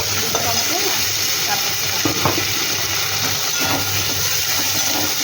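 Tomato and green chilli frying in a pan for a Bengali fish curry, a steady close sizzle and hiss with occasional stirring scrapes, no talking.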